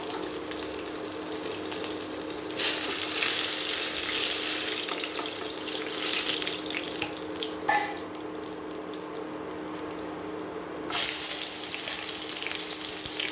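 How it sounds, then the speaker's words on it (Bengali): Broiler chicken pieces frying in oil in a steady, moderate sizzle, with a few brief louder bursts as pieces shift. No one speaks. "দেখুন অপর পাশে কিন্তু এবার ভাজা হয়ে গেছে, মাংসগুলো"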